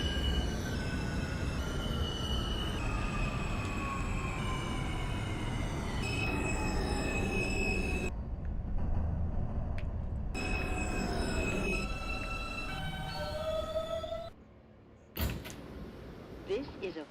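An R160B subway car runs on a Forest Hills-71 Av bound R train in the OpenBVE simulator, giving a steady close rumble with a sweeping motor whine and brief quieter door-stop gaps, while an announcement voice speaks over it.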